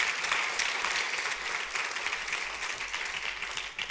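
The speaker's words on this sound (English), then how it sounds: "let's give those guys a round of applause" A church congregation breaks into applause for a pastor and his wife, a full, steady roar of clapping from many people that swells slightly and then tapers near the end.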